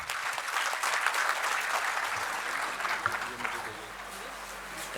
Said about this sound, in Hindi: आरएसएन सिंगर प्लीज, एक बार जोरदार तालियां।